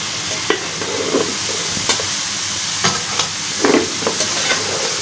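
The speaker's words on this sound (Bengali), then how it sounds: "একটু লাড়াচাড়া দিব, সুন্দর করে একটু লাড়াচাড়া দিব।" Green beans and potatoes with green chillies being stirred in a hot spice masala, the utensil scraping in scattered strokes over a steady oil sizzle, close and clear with no talk.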